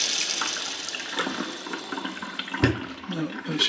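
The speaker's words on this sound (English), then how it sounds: "there's water on still." Tap water running steadily inside an emptied house on closing day, a continuous hiss of flow with a brief clunk partway through.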